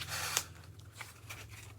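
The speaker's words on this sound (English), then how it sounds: "I'm going to cut this 90-degree angle." Tape is cut for a mask-making mannequin head, giving a few quick, close snips and a soft crinkle over a low background hum.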